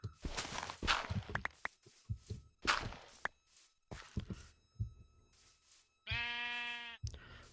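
Sheep bleating in the Minecraft video game, a single clear harmonic bleat near the end after a stretch of short clicks and scuffling game sounds from a wool farm build.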